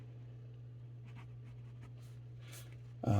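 A Silmaril eyedropper fountain pen from Mayfair Pens with a steel medium nib scratches softly across paper in short strokes over a low steady hum, ending with a brief louder knock.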